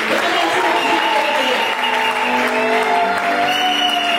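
A church congregation applauds for a girl with loud, dense clapping, mixed with voices and shouts in a reverberant hall.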